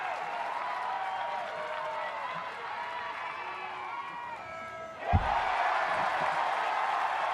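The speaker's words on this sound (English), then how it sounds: "the crowd is really amped up as well with all the extracurricular activities going on" Fans at an NCAA college softball game between Texas Tech and Florida roar and applaud in a steady stadium din that swells suddenly near the end, a broad crowd wash heard from a distance.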